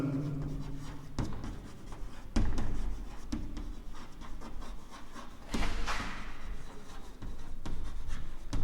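Pen or pencil writing by hand on paper, a steady close scratching with short stroke bursts and pauses, no speech over it.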